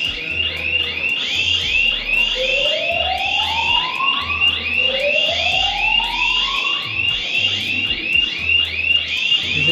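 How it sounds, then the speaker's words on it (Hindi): Emergency alarm at Bahrain airport sounding loud and continuous, a rapid repeating electronic pulse with rising whoop tones sweeping up twice, filling the whole stretch without talk. "एमरजेंसी अलार्म्स बज रहे हैं बहरीन एयरपोर्ट में।"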